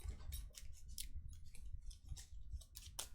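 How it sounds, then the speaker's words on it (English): A deck of KeyForge cards being shuffled during a tabletop game, a run of quick riffling and snapping card bursts in uneven rhythm, close and quiet. "Shuffle the stuff."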